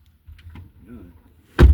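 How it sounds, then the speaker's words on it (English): A door caught by the wind outdoors bangs shut with a single loud thump near the end, after a few faint rustles and a brief murmur of a voice. "The wind caught the door."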